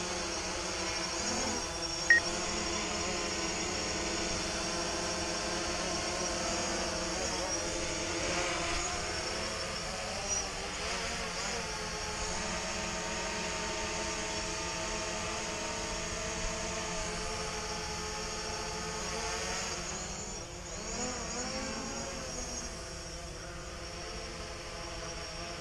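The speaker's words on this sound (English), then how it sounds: "Hey, we got two drones in the air." Two drones flying overhead give a steady, continuous buzzing whine with slowly shifting pitch that holds for the full length at moderate loudness, with no voices.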